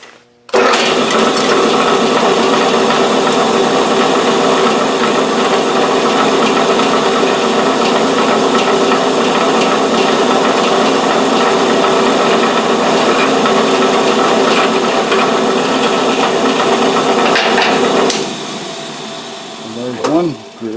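A drill bores a hole through a metal DIN rail, giving a continuous loud whirring grind that holds steady for about eighteen seconds, then winds down and stops.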